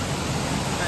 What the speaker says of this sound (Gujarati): લાઈવ વરસાદ હો બાકી.